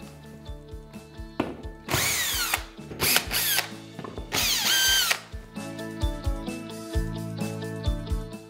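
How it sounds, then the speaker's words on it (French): A power drill backs screws out of a wall where wooden battens were being fitted, with several loud whirring bursts of the motor separated by ratcheting clicks and short pauses, close and without speech. "on va redévisser les vis."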